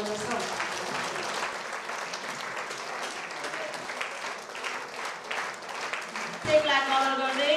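An audience at a Nepali church convention in Morang claps steadily to welcome guests and the chairperson, with a speaker's voice running over the sustained, moderately loud applause.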